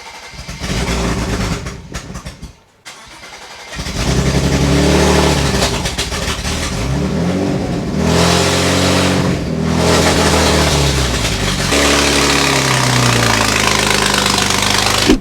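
A BMW turbo engine, freshly fitted with a boost controller, runs loudly up close, revving up and down in repeated swells after a brief stall-like dropout early on.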